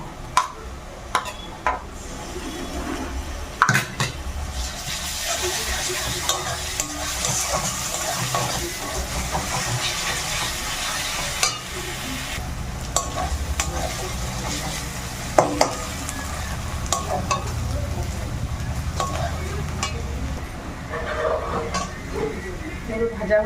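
Garlic paste frying with onions in a pan for a mutton curry, with a continuous sizzle, spoon stirring and scraping, and scattered clinks throughout; speech is faint or absent.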